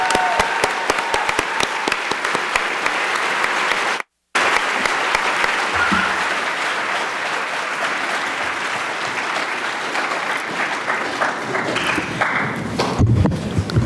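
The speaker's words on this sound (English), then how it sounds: "Let's please have a round of applause for all of the U.S." A school assembly audience applauds U.S. Army veterans at a Veterans Day ceremony, steady loud clapping from a large crowd that breaks off for a moment and then resumes, continuing to the end.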